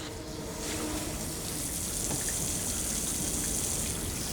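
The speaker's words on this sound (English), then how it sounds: "It might take a little bit to fill this up to the point where water will back up" Steady rushing water pours continuously into a home sewer pipe, a broad hiss of liquid gushing, loud and unbroken throughout.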